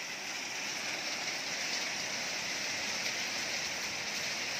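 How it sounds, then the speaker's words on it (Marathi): Steady rain falls at the start of the monsoon in Kolhapur, a constant soft hiss of drops on surfaces, moderately distant and even throughout with no voices. "कोल्हापूरला जवळपास पावसाळा सुरू झाल्यासारखं वाटतंय"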